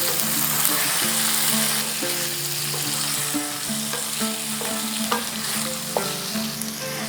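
Fish roe with a few green chillies frying in a pan, stirred now and then, with a steady close sizzle and soft scraping under a constant tonal background.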